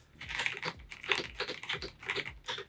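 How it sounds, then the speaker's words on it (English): Typing on a Razer BlackWidow 75% keyboard fitted with a mix of black Razer keycaps and white polycarbonate keycaps, giving a steady run of close, crisp keystroke clacks with no talking. "I actually used the black Razer keys and the white polycarbonate keys. And I gotta say, it still sounds pretty freaking good."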